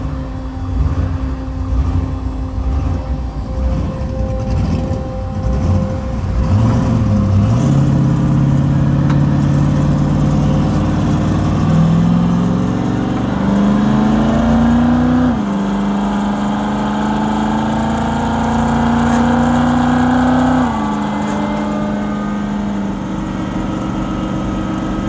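A turbocharged COPO Camaro engine runs steadily near and loud, its idle climbing through several stepped revs that hold and then drop back, with no talking.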